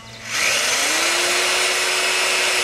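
A power drill spins up and runs steadily with a high whine, driving a cabinet bolt into a wooden table, close and loud with no pauses.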